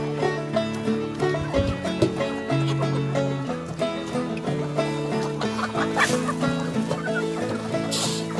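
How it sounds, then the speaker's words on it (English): A flock of chickens clucks and squawks continuously at close range, with overlapping calls and a steady outdoor murmur underneath. "there's all the chickens"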